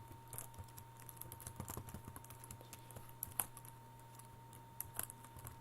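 Faint clicks on a computer keyboard as a chat command is typed, coming in short irregular bursts over a low electrical hum.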